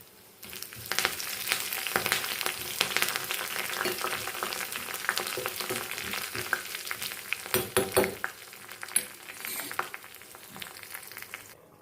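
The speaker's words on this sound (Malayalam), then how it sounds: "കൂടെ തന്നെ ഒരു പത്ത് ചെറിയ ഉള്ളി ഇട്ട് കൊടുക്കാം വറ്റൽമുളകും രണ്ട് മൂന്നെണ്ണം ഇട്ട് കൊടുക്കാം അവസാനം കറിവേപ്പിലയും കൂടെ ഇട്ട് കൊടുക്കാം" Shallots, dried red chillies and curry leaves sizzle and crackle steadily in hot oil, a close, continuous frying hiss with occasional stirring bursts, no voices.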